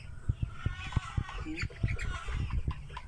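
Chickens on a farm cluck repeatedly in short, close bursts, several birds overlapping, while a person talks over them.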